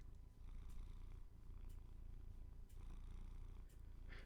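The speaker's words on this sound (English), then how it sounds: "that's him purring away" A domestic cat purrs steadily and close by, a continuous low rumbling with soft rhythmic breaths and no voices over it.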